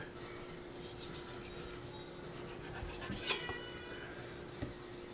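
A knife cuts a potato into halves for fries, giving soft scraping and two light knocks against the board under a steady background hum.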